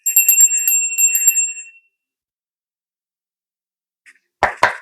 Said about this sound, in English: Ring that bell, call in the spirits.